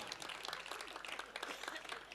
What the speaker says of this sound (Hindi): आपको विश्वास हो तो ताली बजा देना।